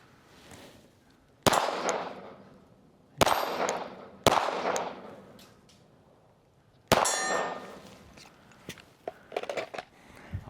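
Gunshots strike steel targets at an outdoor shooting range. Four loud, sharp metallic clangs ring out at uneven intervals, each decaying with a bright ring, followed by a flurry of lighter, quicker pings and taps.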